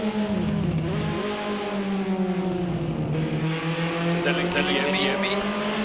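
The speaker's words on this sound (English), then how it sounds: "the sound of the car will actually drown out your voice" Vintage touring cars, BMWs and Fords, racing around a track in Project Cars 2, a continuous loud engine drone with shifting pitch as cars pass, steady throughout with no pauses.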